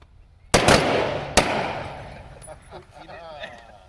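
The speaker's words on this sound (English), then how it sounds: "Ready, aim, fire!" A ceremonial rifle volley at a Memorial Day salute: two loud, sharp gunshot cracks about a second apart ring out in the open air, then fade into distant murmuring voices.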